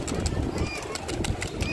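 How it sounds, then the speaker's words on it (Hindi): Domestic pigeons cooing in a rooftop loft, soft low murmuring coos close by, with faint bird calls and background noise. "यहाँ पे अपने दो कबूतर आ चुके हैं और पांच कबूतर भाई हाइट पे उड़ रहे हैं अभी"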